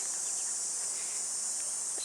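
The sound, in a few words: cicadas buzzing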